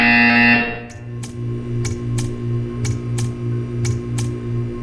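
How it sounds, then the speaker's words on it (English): A loud harsh buzzer from the video game Portal 2 blares for half a second, followed by a series of short regular clicks over a low electrical hum. "When you hear the buzzer, stare at the art."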